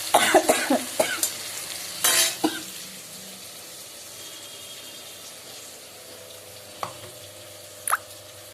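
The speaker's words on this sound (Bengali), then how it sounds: "করলা ভাজা" Bitter gourd frying in a pan on a home stove: clattering stirring knocks dominate the first three seconds, then a soft, steady sizzle continues alone, broken by two sharp taps near the end.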